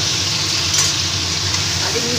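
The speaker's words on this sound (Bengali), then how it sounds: "ম্যারিনেট করা মাংসটা এবার তেলের মধ্যে আমি দিয়ে দিচ্ছি।" Marinated mutton frying in hot oil with potatoes gives a loud, steady sizzle with faint stirring and no talk, held close for a couple of seconds.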